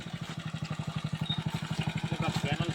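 A motorbike's engine thumps in a fast, even rhythm that grows slightly louder as it approaches, with faint background noise.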